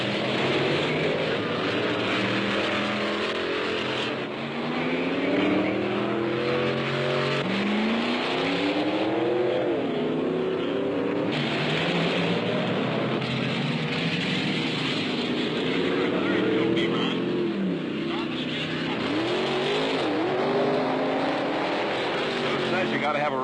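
Powerful drag racing car engines roar and rev up and down throughout, loud and continuous, with a voice talking over the noise.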